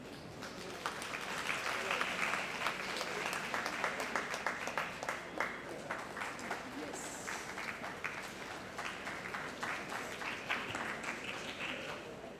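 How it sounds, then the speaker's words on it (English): Audience applause fills a conference hall at a CA students' mega conference, a steady dense clapping from a large crowd that holds throughout at moderate level, with a few louder bursts. "A huge round of applause and a very warm welcome to see Kavita V. Kuram."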